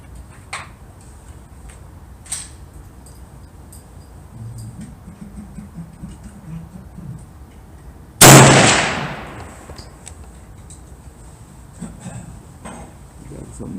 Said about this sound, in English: Here goes the second shot.